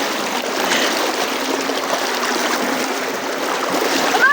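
River water rushes and swirls loudly and continuously around people at a rural provincial wedding held in the middle of a river during a typhoon and flood, a close, steady churning wash.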